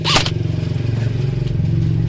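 A motorcycle engine is revved up close, its steady harmonic drone rising and holding loud throughout, with a short scraping burst at the very start.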